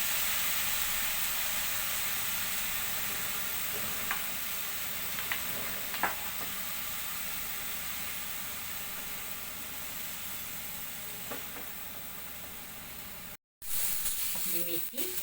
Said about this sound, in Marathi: ही मेथी थोडी तेलावर परतून घेणार आहोत.